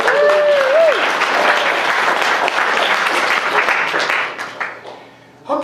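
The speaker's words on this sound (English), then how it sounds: "let's clap for the local" An audience applauds local volunteers: dense, loud clapping that holds steady for several seconds and then thins out into scattered claps, with a brief voice near the start.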